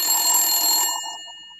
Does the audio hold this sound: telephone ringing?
yes